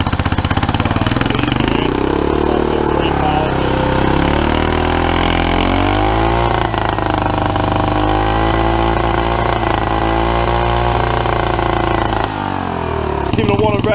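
A turbocharged scooter with no air filter runs loud and close, its engine buzzing and revving up and down continuously. It climbs past high revs and seems to cut out slightly near the end.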